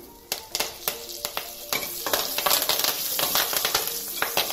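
Cumin seeds, asafoetida and curry leaves hit hot oil and crackle into a loud, dense sizzle with quick popping spits that build and hold steady, close up and without talk.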